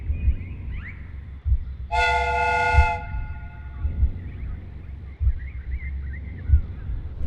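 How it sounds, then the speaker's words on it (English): A train steam whistle in the Sherlock Holmes: Crimes & Punishments video game gives one clear, loud, tonal blast lasting about a second, set against a low rhythmic clanking rumble and faint chirping background. "The steam whistle is ready to be used."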